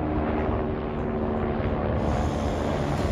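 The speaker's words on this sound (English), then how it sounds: "Like the helicopters here." A fairly large helicopter passes overhead above a cattle yard, its rotor throb a continuous loud, dense roar with a steady whine, no voices over it.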